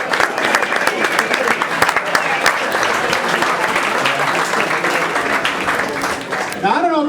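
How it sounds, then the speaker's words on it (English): An outdoor crowd at a political party picnic applauds the picnic committee members, a loud, steady wash of many hands clapping that lasts several seconds, with voices faintly audible in the crowd and a voice rising near the end. "let's have a big round of applause for if we could have the committee members stand who helped put on the picnic"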